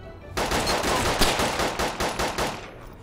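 Pistol gunfire in the video game ArmA 2 DayZ: a loud, rapid run of a dozen or so sharp shots spread over about two seconds, with no talk.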